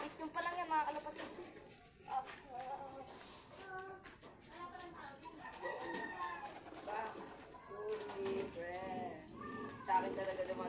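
Pigeons coo repeatedly in a loft close by, their soft throaty calls mixing with people chattering throughout.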